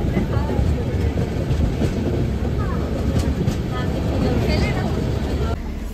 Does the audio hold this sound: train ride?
yes